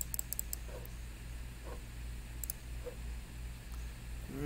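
Computer mouse clicks from someone working in image-editing software, a few faint, sparse clicks spread out over a steady low background hum.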